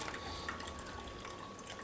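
Hot water poured slowly from a regular teapot while making a New Year's drink makes a continuous, even splashing trickle, close and steady, with no talk over it.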